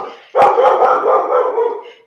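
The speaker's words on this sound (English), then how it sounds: "my dog's here and going nuts though because my mom just got home" An excited dog lets out one sustained, strained bark or yelp right up close and loud, holding for about a second and a half before trailing off.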